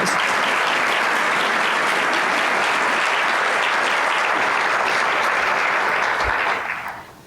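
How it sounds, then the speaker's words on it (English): Loud, sustained audience applause at a social innovation award ceremony, a dense, even wall of clapping from a large crowd that holds steady and then fades away at the close. "let's just give them a loud applause"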